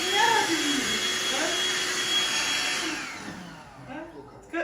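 A vacuum cleaner runs nearby with a loud, steady whooshing drone that fades and winds down partway through. A pet bird chirps over it, and someone speaks briefly.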